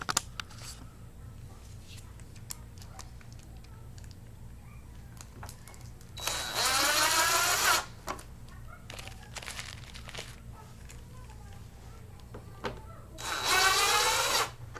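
Two bursts from a power drill driving bolts into a Ford F350 fender flare, each about a second and a half long with a rising whine, close by. Quiet handling noises and small clicks fill the gaps.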